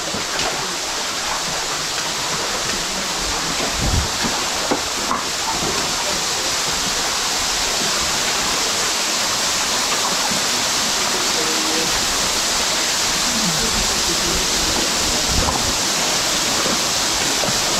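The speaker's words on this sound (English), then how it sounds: "That waterfall comes in and then works its way down there." A waterfall pours inside an underground metal mine in Mid Wales, giving a dense, steady rushing hiss that echoes continuously without a break, with a few faint knocks underneath.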